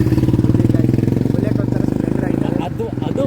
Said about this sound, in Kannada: ಅದು ಬುಲೆಟ್ ಸೌಂಡ್ ಅಂದ್ರೆ